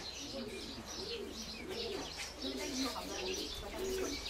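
A flock of decorative pigeons in a large collection in Donbas coos in a steady, repeating rhythm of soft rolling calls close by, with occasional chirps and faint voices in the background.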